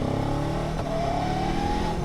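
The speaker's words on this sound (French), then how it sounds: "avec le e-boost, j'ai une accélération qui est très convaincante, mais genre vraiment très convaincante." Kawasaki Ninja 7 Hybrid motorcycle accelerating in sport mode with e-boost, a continuous loud engine and motor whine rising steadily in pitch, heard up close without speech.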